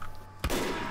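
A single sharp sniper rifle shot in the video game Team Fortress 2, a sudden close crack followed by a brief noisy tail.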